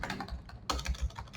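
Quiet keystrokes patter on a computer keyboard while HTML and CSS code is typed, a brief run of close taps with no talk.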